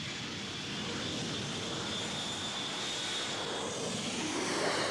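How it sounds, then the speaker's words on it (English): French cargo plane in flight over Juba, South Sudan, a steady distant roar of aircraft engines slowly swelling louder, with no voices. "a French cargo plane ignores the threat of missiles to bring 32 tons of food to children"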